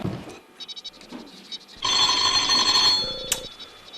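A telephone bell rings loudly and steadily for a second or two, preceded by fainter, scattered tones. The ringing stands out clearly in an indoor setting.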